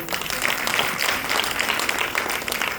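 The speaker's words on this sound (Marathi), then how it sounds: "जरा एकदम जोरदार टाळ्या होतो" An audience at a women's club bhondla and bharud performance claps, a steady, dense wash of applause that holds at an even level from start to finish.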